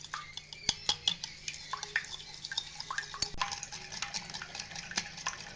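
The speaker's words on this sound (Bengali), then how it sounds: "দিয়ে সমস্ত উপকরণগুলো খুব ভালোভাবে আমি ফেটিয়ে নেব।" A whisk clinks quickly against a bowl while cake batter with sugar and chocolate essence is beaten, giving rapid irregular metallic taps and wet stirring, close and moderately loud.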